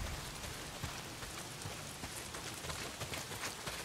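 Steady rain pours down in the open-world video game Days Gone, a dense, even hiss of drops that fills the whole stretch with no voices over it.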